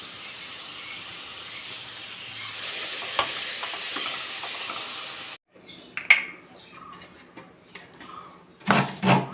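Green beans sautéing in a pan for thoran, a soft sizzle and hiss with stirring, broken by a brief pause and then a few louder scraping stirs near the end.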